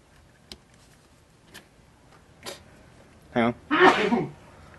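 A person sneezes once, loud and close, after a few soft ticks and a small throat noise in a quiet room.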